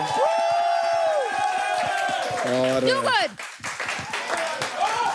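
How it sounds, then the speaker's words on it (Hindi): Studio audience at a grand finale clapping and cheering for the mentors, a dense crowd of applause and whoops, with a host speaking loudly over it. "एक बार अपने मेंटर्स के लिए ताली बजाइए"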